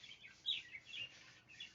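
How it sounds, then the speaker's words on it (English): Small birds chirp and tweet outdoors in short, repeated bursts, fairly faint and steady throughout, with no talking. "Will you shut up, birds?"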